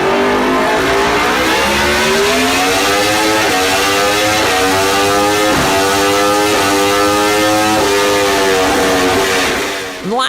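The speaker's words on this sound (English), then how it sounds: "Aprilia's RSV4 does sound amazing too." An Aprilia RSV4 motorcycle engine howls at high revs through its exhaust, climbing through repeated gear changes in rising sweeps, loud and close, cutting off abruptly at the end.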